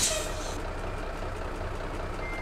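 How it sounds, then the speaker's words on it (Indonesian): A cement transport truck rumbles steadily nearby on a busy, crowded road, its low engine drone continuous with a brief high squeal at the start. "Wah, ada truk pengangkut semen"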